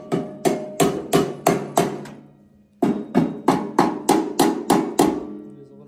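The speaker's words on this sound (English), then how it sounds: "I like to go around and just tap on that clamp" A metal DPF filter clamp on a Freightliner One Box truck is tapped in two quick runs of about six sharp, ringing hammer strikes each, separated by a short pause, close and loud with a metallic decay.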